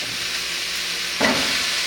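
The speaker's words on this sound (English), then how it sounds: "I have my heat on medium low, so I'm kind of sauteing a little bit so they soften up and caramelize" Leeks, sweet potato and butternut squash sauté in a pan over medium-low heat, a steady soft sizzle that swells into a louder hiss of frying and steam partway through, with no talking.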